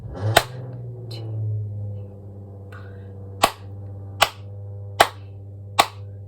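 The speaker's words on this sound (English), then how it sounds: "I will count while I clap." Sharp hand claps ring out in a rhythm, four crisp, evenly spaced claps following an earlier single clap, over a steady low sustained tone acting as a beat underneath.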